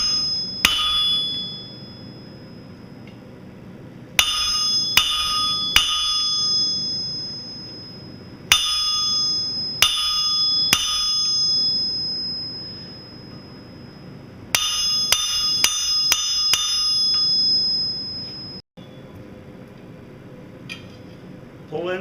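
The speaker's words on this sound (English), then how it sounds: "drive a half-face blow into the material." Hand forging a dragon's foot: groups of sharp, ringing hammer blows on an anvil, each with a bright metallic ring, falling in quick bursts separated by pauses, with someone talking quietly between them.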